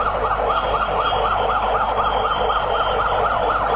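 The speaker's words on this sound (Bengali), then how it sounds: "একটি অ্যাম্বুলেন্স এসে পৌঁছে গেছে সিলেট সিভিল সার্জন দপ্তর থেকে" An ambulance siren wails in a steady rising-and-falling cycle, loud and continuous, at an airport plane fire in Sylhet, with a low vehicle rumble beneath and no speech.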